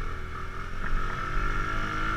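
Bajaj Boxer CT motorcycle riding in fourth gear, its engine a steady close drone with a constant tonal hum, no talk over it.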